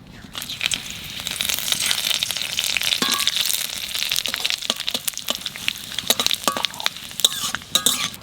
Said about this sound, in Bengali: এরপর দিয়ে দেবো শুকনো লঙ্কা জিরে তেজপাতা